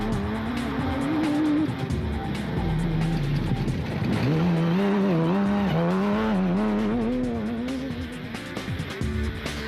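A rally race car, the KEC bat of Johan and Sean van Staden, sets off at the start of the Piet Plessis 200 road race in 2012, its engine revving hard through the gears, loud and steady for about ten seconds.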